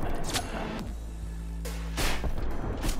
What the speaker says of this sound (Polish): Słyszałam strzały.